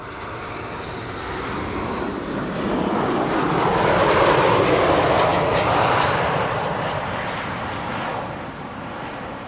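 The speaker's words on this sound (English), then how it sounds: "There it is, the Embraer Praetor." An Embraer Praetor business jet on approach to Amsterdam Schiphol, its engine roar swelling from distance to a loud peak overhead and then easing away.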